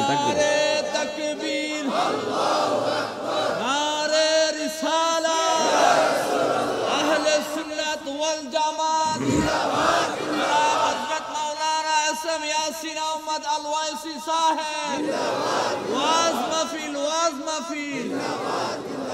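A crowd at an Islamic religious gathering in Bangladesh shouts takbir in loud, rhythmic, massed chants, answering calls through amplification, with brief pauses between rounds.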